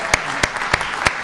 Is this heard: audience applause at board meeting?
yes